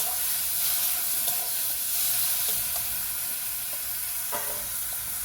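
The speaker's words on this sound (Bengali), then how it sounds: "এক চামচ দিয়ে দেবো নুন টমেটো পেঁয়াজ ভালো করে কষিয়ে নেবো" Tomato and onion with salt sautéing in a pan, a steady close sizzle and hiss with occasional scraping taps of a stirring spoon, no voices over it.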